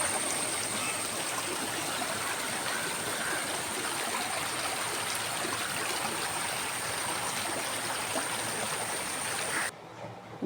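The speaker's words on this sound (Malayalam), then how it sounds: "ഇത് ഞങ്ങളുടെ പറമ്പിൽ തന്നെ ഉള്ള വെള്ളച്ചാട്ടമാണ്." A monsoon-season waterfall and stream in a home compound rushes in a steady, dense wash of flowing water that holds constant throughout, then cuts off abruptly just before the end.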